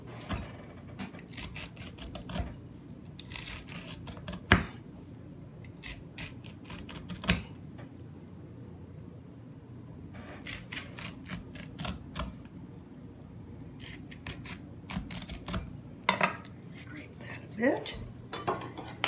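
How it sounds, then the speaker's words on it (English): A fork scoring the skin of a cucumber for a cucumber salad: quiet bursts of rasping, scratchy strokes that come and go between short pauses, with an occasional voice in the background. "I like to score the skin of the cucumber"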